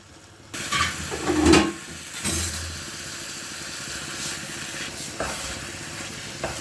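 Khoya is stirred into carrot halwa (gajrela) in a pan, giving soft scraping stirs over a low, steady sizzle, with a few louder strokes near the start and no voices.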